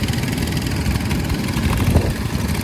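A vintage Howard machine engine passing at a steam rally, a steady loud mechanical chug with a dense rumbling drone that holds level throughout, no voices.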